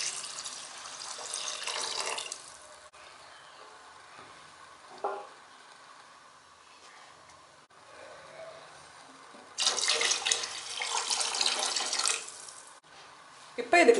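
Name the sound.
pouring coconut milk and water into pot for veg pulao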